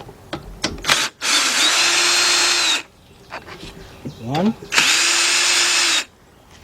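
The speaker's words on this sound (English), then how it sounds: "take us a 10mm deep on our cordless drill. And you're going to remove these two bolts right here." A cordless drill fitted with a 10mm deep socket backs out bolts on a Troy-Bilt push mower, making two loud, sustained whirring bursts with a short pause and faint clicks between them.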